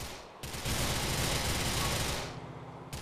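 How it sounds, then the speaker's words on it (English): Sustained automatic gunfire from a shootout in the video game Grand Theft Auto IV: The Ballad of Gay Tony, a dense, loud, rapid burst of overlapping shots lasting over two seconds, with no one speaking. "This wouldn't be GTA without a little bit of shooting."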